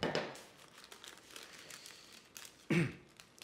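Baking paper crinkles softly and continuously as a coffee cream and banana roll cake is rolled up with a rolling pin, ending in one louder crumpling rustle near the end.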